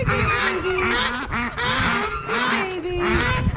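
A flock of young ducklings, newly arrived at a new home, calls in repeated overlapping nasal quacks and honks, close and lively, in bursts.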